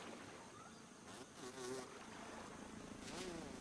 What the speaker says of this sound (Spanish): Vale, los mosquitos.